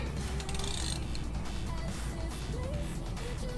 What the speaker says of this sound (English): So I'm gonna go ahead and loosen these guys up and get this thing drained up.